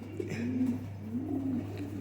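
Amber Sire pigeons cooing nearby, two long drawn-out coos in steady succession over a constant low hum, with no talk.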